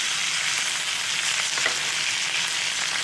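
A New York strip steak sears in a cast iron skillet with butter on top, giving a loud, close, continuous sizzle with fine crackling that holds steady throughout.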